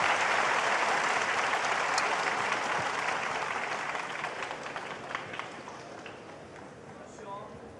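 Snooker match crowd applauding a potted plant shot at the Shanghai Masters 2024 final, a burst of clapping that starts loud and slowly thins out, with a commentator's voice talking over it.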